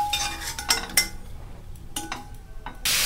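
Fried turmeric potatoes are lifted from a wok, with metal utensil clinks and scrapes against the pan in short separate bursts and quieter gaps between.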